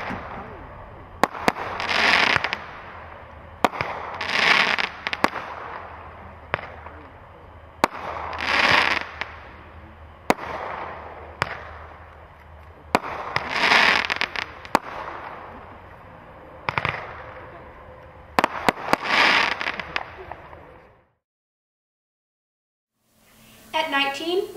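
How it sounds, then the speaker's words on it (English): Small MS-287 Mummy Awakes firework cake with green crackling and glitter breaks, firing a series of loud launches each followed by a dense sizzling crackle, about five bursts in a steady rhythm, then silence. "Mummy Awakes packs a lot of power into a small cake at a great price. It features green crackling and glitter breaks."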